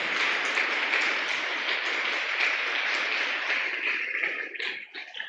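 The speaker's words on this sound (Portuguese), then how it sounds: "Palmas para Jesus." A church congregation applauds during a service, a dense, steady wash of many hands clapping that thins and tapers off near the end, with no speech over it.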